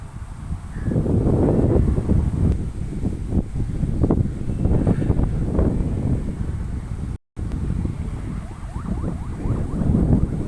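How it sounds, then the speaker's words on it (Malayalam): Strong wind blows outdoors at a scenic viewpoint, buffeting the microphone with a continuous loud rumbling roar that rises and falls in gusts. "നല്ല കാറ്റുണ്ടായിരുന്നു"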